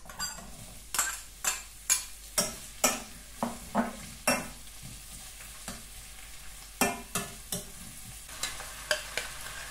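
Chicken and onions sautéing in a pan for tinola, with repeated stirring scrapes and a soft sizzle underneath, the strokes coming in close, irregular bursts with brief pauses.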